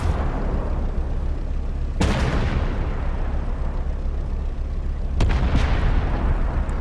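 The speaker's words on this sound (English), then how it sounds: "It's a paladin, mobilized artillery behind me. That's why I was seeing that flash. He's shooting at the enemy too." Paladin self-propelled artillery firing in a video game battle: two heavy booms roughly three seconds apart, each a sharp blast trailing into a rumbling decay over a constant low background roar.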